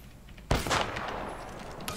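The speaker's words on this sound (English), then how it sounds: "I am taking optics fire, here." Gunfire in Apex Legends: one sharp, loud shot bursts in, then a short crackling stretch and a smaller report near the end, all over a steady background hiss.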